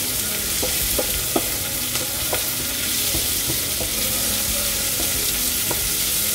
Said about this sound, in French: je vais rajouter mes lentilles vertes. Et je vais touiller.